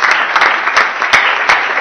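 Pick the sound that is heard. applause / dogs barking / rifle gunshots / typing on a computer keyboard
applause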